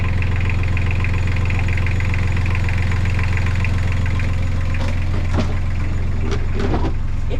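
A new Yanmar marine diesel engine aboard a boat runs at a steady idle with a strong low rumble and constant vibration, loud and close, with a few brief knocks and clatters near the end.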